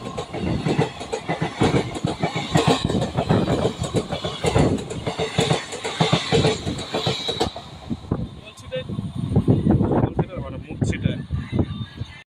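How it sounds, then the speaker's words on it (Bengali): The Asansol Superfast Express rushes past close by with a dense, rhythmic clatter of wheels over rail joints that thins out near the end, while someone talks over it. "এখন সামনে দিয়ে বেরিয়ে যাচ্ছে আসানসোল সুপারফাস্ট এক্সপ্রেস।"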